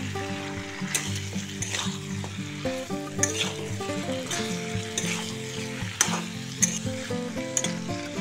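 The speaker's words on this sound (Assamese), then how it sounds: "এতিয়া এইখিনিও মই ধুনিয়াকে লৰাই দিম" Chicken frying in oil in a pan while being stirred, with a steady sizzle and repeated scraping strokes of the spoon close by, over a background of music.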